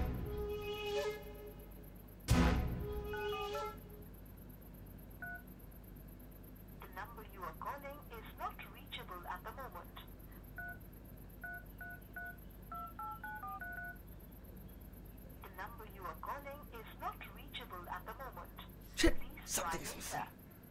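Electronic tones from a mobile phone placing a call: bursts of beeping dial and ringing tones sound clearly over a quiet room, with a sharp clack near the start and another toward the end.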